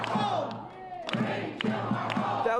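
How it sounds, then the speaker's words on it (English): A crowd in Maryland cheers and applauds for their U.S. senator, a dense wash of clapping, whoops and shouting voices at moderate distance, steady throughout the short moment. "Marylanders applauding their Senator Chris Van Hollen"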